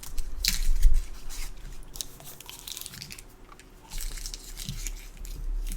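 Gum is chewed close to the microphone, giving soft, wet, squishy chewing sounds in irregular bursts with short pauses between them.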